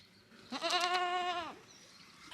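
A single goat bleats once, clear and fairly close, a wavering call lasting about a second on a farm that took in goats evacuated from a war-hit town, with faint background noise around it.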